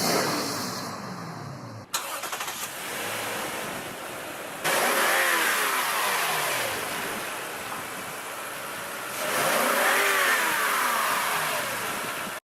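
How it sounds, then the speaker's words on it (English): A car engine revs and accelerates as the vehicle speeds toward the listener, rising in repeated surging passes with a whooshing, near pass-by quality and no talking. "the sound of an approaching vehicle speeding towards you wouldn't just be audible,"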